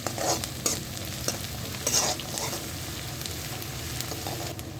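Onion and curry leaves sautéing in a pan, a steady frying sizzle with intermittent stirring scrapes throughout, close and moderately loud, with no voices.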